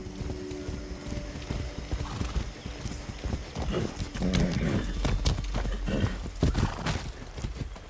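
Horse hooves clip-clop steadily across ground in the video game Far Cry 6, a continuous run of close, rhythmic thuds with a brief whinny and outdoor ambience underneath.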